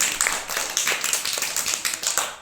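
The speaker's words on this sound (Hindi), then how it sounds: "तालियां बजाओ" A child claps hands in a quick, rhythmic run of a dozen or so sharp claps, close and fairly clear, with no talking over them.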